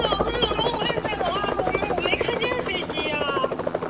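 A steady, loud helicopter-like drone with a wavering, buzzing whir flies close by throughout in a comedy skit, with brief voices mixed in.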